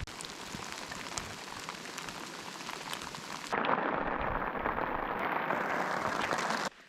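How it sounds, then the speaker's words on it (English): Rain pours down at a wilderness canoe campsite, a dense steady patter that abruptly grows louder and brighter halfway through, as if the rain turns heavier or strikes closer. "The rain has stopped after about 15 minutes of ranging from rain to drizzle to torrential rain."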